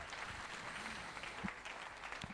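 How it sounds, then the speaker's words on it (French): A church congregation claps during worship, a faint, distant, steady wash of applause with no voices on top. "Applaudissez le roi des rois"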